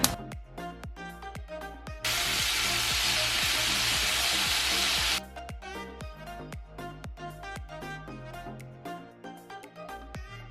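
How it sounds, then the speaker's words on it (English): Vegetables and pineapple stir-fry in olive oil in a pan, a loud, steady sizzling hiss that swells for a couple of seconds, then continues beneath a steady beat of music. "we just added in some of our own olive oil and we're going to stir fry everything on a pan"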